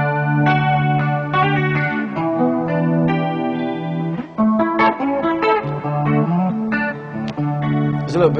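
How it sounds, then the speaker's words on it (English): Clean electric guitar through an iRig with a Fender Twin Reverb amp model, playing chords and melodic runs, shimmering with chorus and a light delay trailing each note, steady and close. "There's a little bit of chorus there, yeah, and a little bit of delay."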